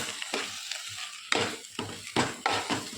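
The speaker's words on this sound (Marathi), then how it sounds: "ते कंटिन्यू असं हलवत राहावं लागतं, नाहीतर खाली लागण्याची शक्यता असते." Puranpoli filling being stirred in a pan, a steady run of scraping, sizzling strokes with sharp spoon knocks against the metal, close and fairly loud with no voices.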